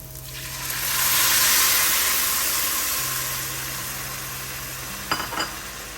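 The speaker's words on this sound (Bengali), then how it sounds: "গাছের কাঁচামরিচ দিয়েছি, এখন এটাতে পানি দিয়ে দিব, ব্যাস হয়ে যাবে" Water is poured into a pan of frying pumpkin and fish curry with green chilies, setting off a loud hissing sizzle that swells and then settles into a softer bubbling hiss, with a brief utensil clink near the end.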